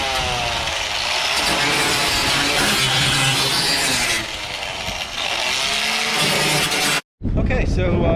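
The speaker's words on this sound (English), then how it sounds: "we're going to smooth up some of these edges and get it ready for some painting and stuff like that. So we're not going to film this. It's going to be really loud" A grinding wheel roars loudly and steadily against the metal edges of a Jeep JK Wrangler hood louver, running continuously for about seven seconds before a brief cutoff and restart.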